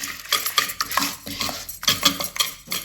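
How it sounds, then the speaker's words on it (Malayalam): A spoon whisks fish rava fry batter in a bowl with quick, rhythmic scraping and clinking strokes, close and fairly loud, with no talking. "ഇനി നല്ലവണ്ണം മിക്സ് ചെയ്തെടുക്കാം."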